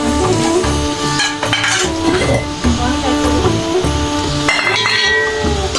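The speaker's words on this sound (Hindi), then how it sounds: "ये देखिए अभी मसाला भून रही हूँ" Masala with onions frying in a pot for a vegetable biryani, with repeated metallic clinks and scrapes of a spoon stirring against the pot over a continuous sizzle, close and loud.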